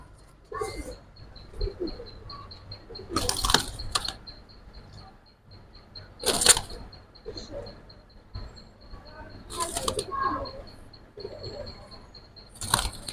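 A Giribaz pigeon held in the hand flaps its wings in several short, close bursts, with pigeons cooing and people talking between them.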